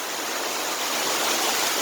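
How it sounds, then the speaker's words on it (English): Heavy rain pours onto a tarp sheltering a canoe restoration, a loud, dense, unbroken hiss and patter that holds steady for about two seconds with no talking. "Yep, so there's that pouring rain."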